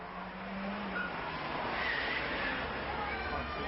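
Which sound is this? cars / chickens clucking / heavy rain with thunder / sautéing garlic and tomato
cars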